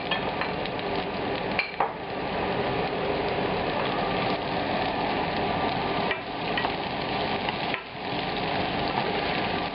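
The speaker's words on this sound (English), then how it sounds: "Now we're going to put the onions in the pan." Onions sizzle and fry in a pan in a continuous crackling hiss, steady and close, with a few brief knocks of stirring.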